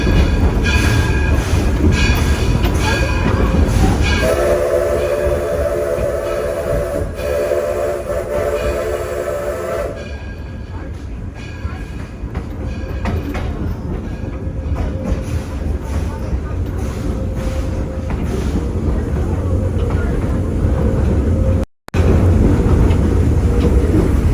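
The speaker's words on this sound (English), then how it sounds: "Firemen in the cabs doing a routine mechanical procedure known as an engine blowdown." Steam locomotive at Greenfield Village during a routine engine blowdown, a loud sustained rushing hiss with a strong whistle tone midway, under rail rumble and a speaking voice.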